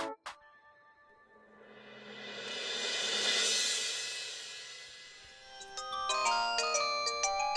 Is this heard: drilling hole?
no